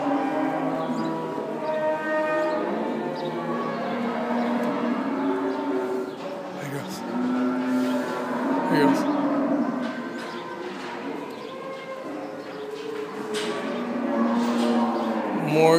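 Several Braford heifers moo repeatedly in long, overlapping, low bellowing calls, some close and loud, others farther off, in a busy livestock setting.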